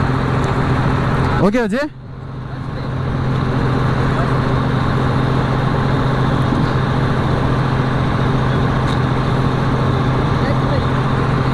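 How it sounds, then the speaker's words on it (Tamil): A paddy harvester's engine drones steadily and loudly while the machine is driven, with a brief higher whine near the start. Someone talks over the engine noise. "இந்த லிவர் தள்ள உடனே வண்டி சுத்த ஆரம்பிச்சிருச்சு."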